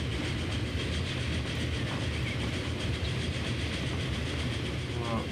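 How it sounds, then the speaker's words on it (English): A train in the Transport Fever game runs along its rails, a steady, dense rolling rumble with faint rhythmic clatter, heard alone throughout. "Here comes the other train."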